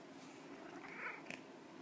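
A cat purrs softly up close on a loft bed, a low steady rumble with a brief higher squeak near the end, no talking over it.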